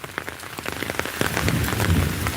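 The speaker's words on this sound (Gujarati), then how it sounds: "કડાકા ને ભડાકે વરસાદ આવ્યો" Heavy rain pours down steadily in a thunderstorm, with dense patter drumming on surfaces and a few sharper drops; the downpour grows slightly louder.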